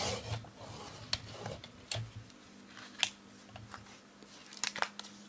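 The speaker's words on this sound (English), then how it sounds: "trim it with my trimmer" A paper trimmer slices through a card base for a handmade apple card, giving several short, sharp cutting strokes spaced apart, close and fairly quiet, with no talk.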